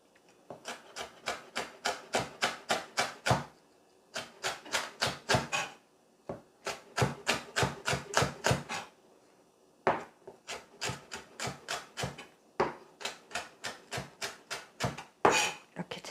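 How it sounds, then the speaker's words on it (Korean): Knife julienning zucchini on a wooden cutting board, rapid rhythmic chopping strokes in quick bursts of about eight to ten cuts each, separated by short pauses, close and clear with no talking. "이렇게 채 썰어 주고요."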